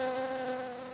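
Steady insect buzz with a clear, sustained droning tone holding for about a second, close and fairly loud with no voices. The sound is bees in a landscape setting.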